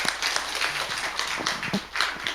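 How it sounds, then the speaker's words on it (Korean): A church congregation applauds during a Sunday morning service, producing moderately loud, uneven clapping from many people, with some irregular claps standing out from the rest over a couple of seconds. "우리 수고하시는데 박수 한번 할까요?"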